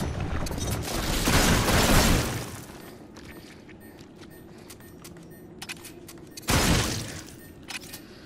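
Shotgun blasts in the Farpoint PSVR shooter game, with two loud booming shots several seconds apart over continuous game background noise.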